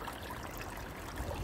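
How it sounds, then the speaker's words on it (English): Water running steadily through a gold prospecting sluice, a soft continuous trickle and wash at close range, fairly quiet throughout with no voices. "I chucked my material through the sluice. I'm still letting it clear through a little bit"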